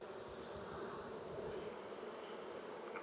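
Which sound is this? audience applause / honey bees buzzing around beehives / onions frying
honey bees buzzing around beehives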